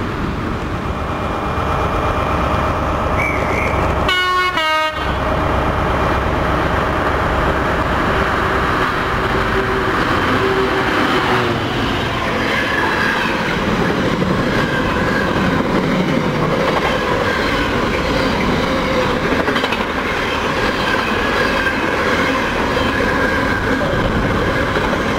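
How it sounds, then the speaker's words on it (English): An HST passenger train passing at a station on its way to London Paddington, with loud, steady rail rumble and clickety-clack throughout and a brief squeal near the start, and no talking. "HST, that'll be going to London Paddington. That's come out of the"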